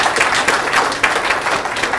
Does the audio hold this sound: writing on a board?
no